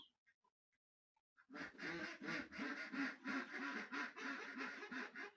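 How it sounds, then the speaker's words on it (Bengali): Ducks penned up at a home quack loudly and close by, a rapid continuous chorus of overlapping calls that begins abruptly after near silence. "আমার হাঁসগুলো মিশিল করছে কারণ ওরা বের হওয়ার জন্য ওদেরকে আমি বেঁধে রেখেছি"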